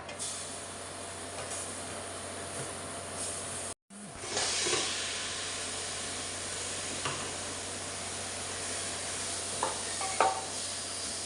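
Spices and tomato being stirred in a pan while cooking a tapioca biryani, a steady broad hiss of frying broken by a brief drop near four seconds, then continuing sizzle with occasional scraping stirs, close and moderately loud.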